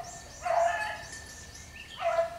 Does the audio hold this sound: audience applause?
no